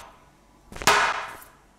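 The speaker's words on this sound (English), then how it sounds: "Now that's forging flat on the anvil." A blacksmith's hammer strikes hot steel flat on an anvil during forging, one loud ringing blow with a bright metallic burst that decays over about half a second, close by and alone.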